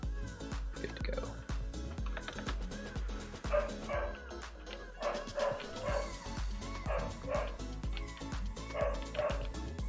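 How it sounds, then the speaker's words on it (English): A dog barks repeatedly in rapid, yipping bursts for the whole stretch, loud and close, with some whimpering amid a busy background. "Now the dog's in on it."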